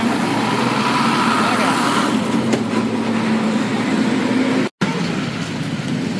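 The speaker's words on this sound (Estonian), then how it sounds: "Vägeva buss." A large bus rumbles past nearby on a busy Bangkok street, a loud continuous engine drone with traffic noise. The sound cuts out briefly near the end, and a voice speaks over it.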